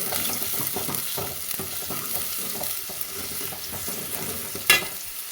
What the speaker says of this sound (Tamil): நான் இதில் ஒரு கைப்பிடி அளவு வெங்காயத்தை சேர்க்குறேன் நல்லா இதை வந்து வதக்கி விட்டுறலாம்